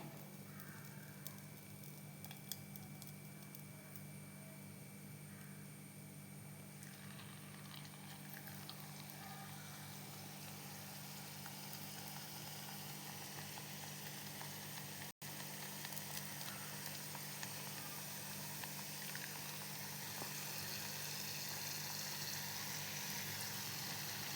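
Jackfruit pakoda batter frying in hot coconut oil, a steady dense sizzle and crackle throughout, close and continuous with faint background sounds.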